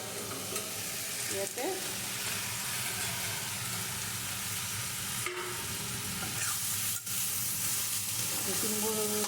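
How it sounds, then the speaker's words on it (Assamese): Dal frying in a pan for an Assamese khar dish gives a steady, close sizzle with occasional stirring scrapes, and a voice speaks briefly over it. "এইটো মই আৰু অলপ সময় এনেকৈ ভাজি থৈ দিওঁ"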